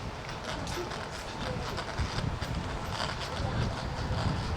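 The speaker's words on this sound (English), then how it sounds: "A little bit windy today, so hopefully the little sock on the mic is protecting you the wind" Wind buffets a microphone with a sock cover on a Costa Blanca beach at Mil Palmeras, making a steady roaring rumble that lasts throughout.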